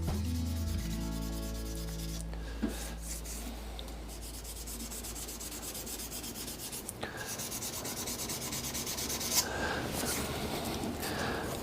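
African Zebrano wood pen blanks spin on a lathe while being sanded, producing a continuous close rubbing hiss over the motor's low hum, with a few brief knocks and shifts in pressure.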